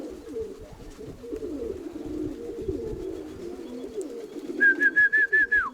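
Low, murmuring pigeon coos overlap for several seconds, then a rapid series of high, thin chirps repeats near the end.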